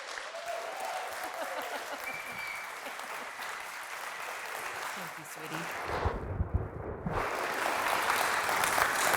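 An audience in Calgary applauds to welcome a keynote speaker, a fairly faint, steady wash of clapping that swells slightly later on, with voices and a brief gap partway through.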